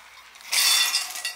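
Roughly a cup of roasted peanuts is poured into a kitchen mixer jar, making a short, bright rattling clatter of hard nuts against the jar after a quiet start.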